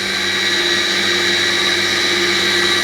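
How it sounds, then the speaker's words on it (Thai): A Blendplus Mini slow juicer presses pomegranate with a loud, steady motor hum and a constant tonal drone. The sound is close and unbroken, with no voices. "เราก็ค่อยตัดทับทิมนะครับ ใส่ไปในเครื่องช้าๆนะครับ"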